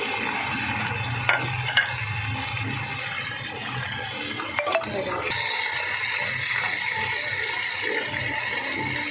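Half a kilo of chicken cooking in a pot for aloo chicken pulao, a steady close sizzle with stirring scrapes and a few clinks, growing louder after the meat goes in.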